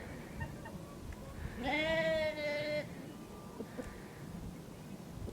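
A sheep calling its lamb on a small farm gives one clear wavering bleat lasting about a second over steady wind and outdoor background noise, with a fainter call following.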